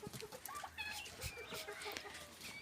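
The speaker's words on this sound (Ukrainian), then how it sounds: "Півники. Курочки." Chickens cluck softly at a distance, scattered short calls over a quiet outdoor background.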